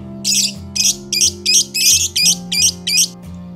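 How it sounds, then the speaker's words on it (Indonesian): A lovebird gives a series of about nine sharp, rasping ngoek-ngoek calls in a steady rhythm, close and loud, over a low droning background hum. "lovebird Balibu belum bisa atau belum mampu untuk ngoek-ngoek memanggil seperti ini dalam keadaan yang sangat rapat"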